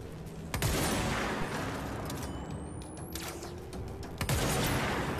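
Pierce weapon firing in the video game Control, two heavy, sharp booms a few seconds apart, each with a ringing tail, over a low rumbling game ambience.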